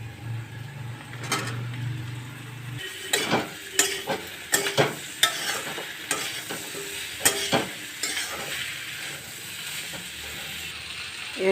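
Cut raw tomatoes hit a hot pan with turmeric, cumin and Kashmiri red chili powder, sizzling steadily while a spoon scrapes and stirs in uneven clattering strokes.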